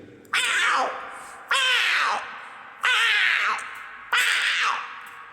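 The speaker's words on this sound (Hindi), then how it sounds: "और जब बिल्ली लड़ती है एक दूसरे से" Four harsh, strained yowls from cats fighting one another, each a loud, rough cry that trails off, repeating at steady intervals close by.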